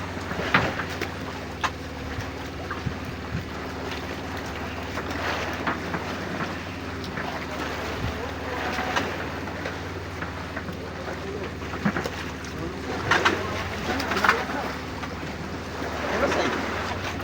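A fishing boat heading out on the open sea at dawn after yellowfin tuna: a steady motor drone mixed with wind buffeting and the wash of waves, continuous throughout.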